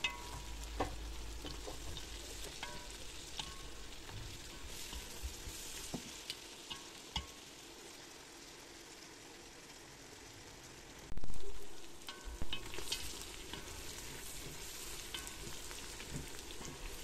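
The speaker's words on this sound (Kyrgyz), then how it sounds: "Мынакей уже куурулуп атат." Onions and carrots frying in a pot for plov give a continuous crackling sizzle throughout, with occasional light clicks of stirring and a brief louder scrape near the end, no voices.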